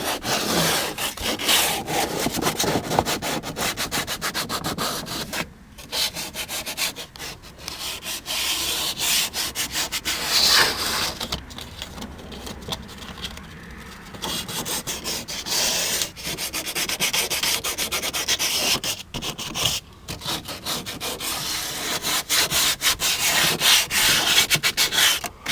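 Hand sanding across the cracked dashboard of a 1993-2002 Camaro Z28 or Firebird Trans Am, roughing it up for dash cap adhesive; steady, close, continuous rasping strokes with a few brief pauses, and no talking.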